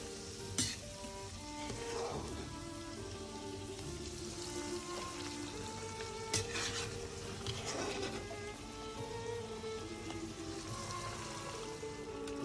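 Cooked trofiette pasta hits a hot pan of sauce with a soft, steady sizzle and faint crackling, quiet and close, with a couple of light stirring clinks along the way.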